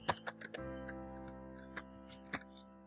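Several separate clicks of computer keyboard keys being pressed, sharp and close, in uneven bursts with a pause before a final firm keystroke, over a faint steady electrical hum and no voices.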